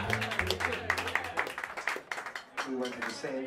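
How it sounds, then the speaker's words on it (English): Scattered audience clapping at Smalls Jazz Club for a bassist, fairly faint and close, heard beneath someone speaking into a microphone and fading out toward the end. "Give him a round of applause."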